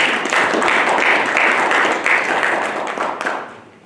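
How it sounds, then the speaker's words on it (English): Applause from an audience at a college talk, a dense burst of many hands clapping that holds steady and then thins out and fades toward the end. "let's give a round of applause for the people that developed this program to invite us back to the college"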